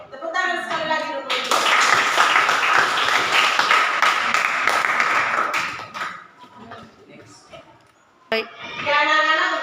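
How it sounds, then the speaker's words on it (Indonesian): A classroom of children claps together loudly for several seconds in a steady burst of applause, fading near the end, with children's voices and talk heard before and after. "tepuk tangan sekali lagi dulu"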